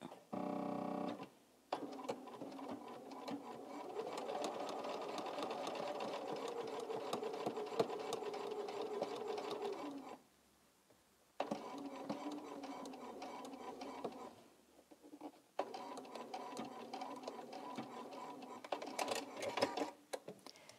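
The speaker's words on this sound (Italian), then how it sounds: "Quindi adesso faccio la cucitura qui." A sewing machine runs in long steady bursts while stitching fabric pieces for a log cabin patchwork Christmas decoration, pausing briefly twice between runs, close and fairly loud with no talk.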